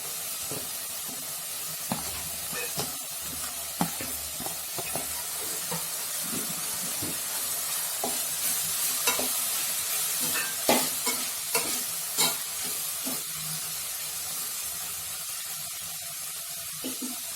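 Onions and dried red chilies frying in a pan for pepper chicken, a steady close sizzle broken by repeated scraping stirs of a spoon against the pan.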